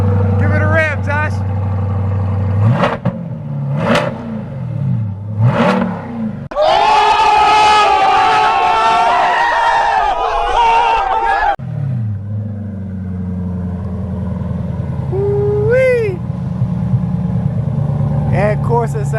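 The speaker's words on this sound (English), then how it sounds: "Give it a rev, Josh." A C8 Corvette fitted with an aftermarket Corsa Extreme exhaust idles with a deep rumble and blips its throttle nearby, while people nearby shout and cheer loudly over it.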